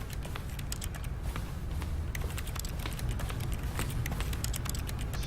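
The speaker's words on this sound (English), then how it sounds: "I love this clicking noise." Rapid, crisp keypad button clicks as a four-digit PIN is entered in The Stanley Parable, short sharp taps in quick irregular succession over a low steady room hum, fairly quiet.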